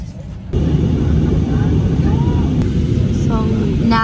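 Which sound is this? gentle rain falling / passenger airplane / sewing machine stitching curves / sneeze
passenger airplane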